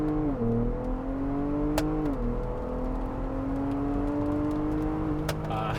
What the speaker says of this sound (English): I'm gonna see if I can nail every gear with the paddles